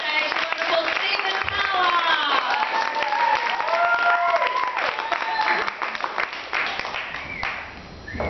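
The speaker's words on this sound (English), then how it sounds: "would you please give a big round of applause?" A comedy club audience claps and cheers to welcome a comedian to the stage. The applause is steady under shouting voices and tapers off near the end.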